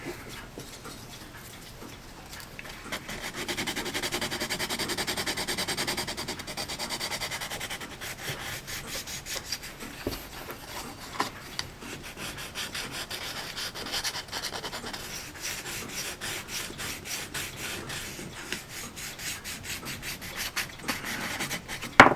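Sandpaper rubs back and forth on a wooden model ship part in quick, rhythmic scratchy strokes, soft and close, continuing steadily for a long stretch without talk.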